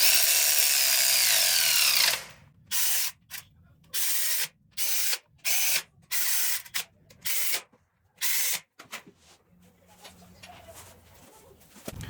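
A ratchet snugs down bolts on a Jeep XJ Cherokee: after a steady loud noise, a run of about eight evenly spaced, loud rasping bursts, each separated by brief silence, close up and without talk.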